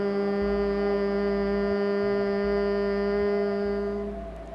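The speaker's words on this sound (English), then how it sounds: "When you exhale, you're going to make a humming sound like a bee." Long, steady humming exhale from Bhramari Pranayama bee breath, a sustained even drone with strong harmonics lasting about four seconds before fading at the end of the breath.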